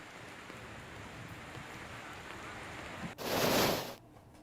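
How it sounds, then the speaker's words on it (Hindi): A steady hiss of rain pours down during a hailstorm in Uttarakhand, then a sudden louder burst of hail and rain hammering a surface for about a second before easing back. "आसमान से गिरती ओलों के रूप में ये बारिश"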